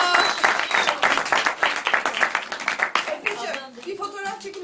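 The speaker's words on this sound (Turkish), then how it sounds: "Alkış diyoruz efendim" Studio audience applause breaks out for two hosts, brisk clapping from a room of people close by, with talk and laughter overlapping and the clapping thinning out toward the end.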